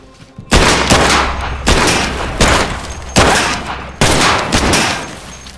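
Rapid, loud gunfire from the VR shooter Heartshot VR, with five heavy bursts in steady succession over a constant low rumble and no speech.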